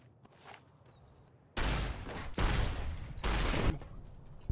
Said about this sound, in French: c'est un fusil à pompe